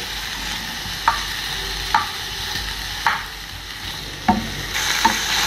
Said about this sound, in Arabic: تتحمر من الناحيه دي، هلف كده.